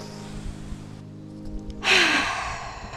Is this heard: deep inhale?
yes